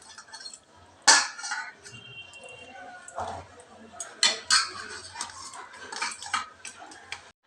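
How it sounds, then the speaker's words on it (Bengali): Boiled potatoes and carrot mashed in a bowl, giving irregular clinking and scraping knocks of a utensil against the dish, close and fairly sharp, with quieter soft squelching between the strikes. "আলু আর গাজরটা খুব ভালোভাবে ম্যাশ করে নিয়েছি।"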